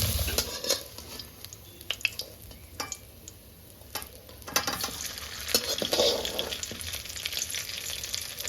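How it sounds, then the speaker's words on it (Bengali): Raw banana and potato frying in a pan, with a soft continuous sizzle under repeated scraping and clinking stirs of a utensil against the pan, close and moderately loud. "কাঁচা কলাটা তো একটু আস্তে আস্তে আমি ভাজা করব, তার সঙ্গে আলুটাও ভাজা হয়ে যাবে"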